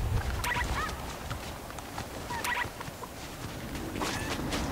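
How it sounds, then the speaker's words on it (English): Chickens cluck in Fortnite as they hatch from eggs, with a few sharp, chirpy calls spaced apart over a continuous, moderately loud game background. "Wow, look at all these chickens coming out."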